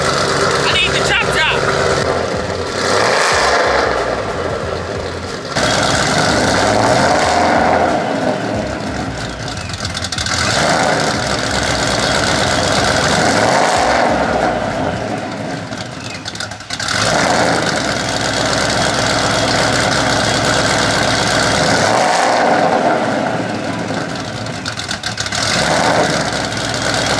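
A modified 800 hp Shelby GT500 V8 rumbles at idle just after its first start-up, the engine note rising and falling through repeated swells while someone talks loudly over it.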